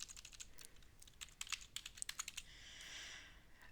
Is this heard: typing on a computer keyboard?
yes